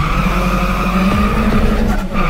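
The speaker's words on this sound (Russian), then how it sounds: "я зачем-то отпустил газ на переключении первая, вторая. И сильно забуксовал вначале" Daewoo Matiz fitted with a new turbo, about 200 hp, spinning its tyres hard at launch: a loud, close engine drone with a tire squeal sweeping across it and steady mechanical noise throughout, with no talk.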